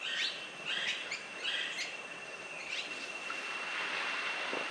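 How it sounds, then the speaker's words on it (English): Small birds chirping in the Costa Rican morning, several high, quick tweets and short calls scattered over a steady hiss of ambient noise, fairly distant and continuous. "All sorts of little birds."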